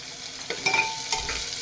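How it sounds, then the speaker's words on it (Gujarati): Chopped onion sautéing in a pan with cumin seeds and ginger, chili and garlic paste, giving a soft, close sizzle broken by a few brief scraping stirs, with no talking. "એ ગુલાબી થાય ત્યાં સુધી આપણે એને સાંકળીશું"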